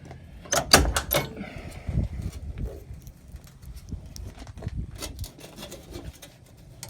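Door of a rusty, rotted 1985 Ford Mustang Foxbody notchback LX coupe swinging shut, giving a couple of solid thuds and metallic clunks with some rattle, then quieter handling noises nearby; no talking.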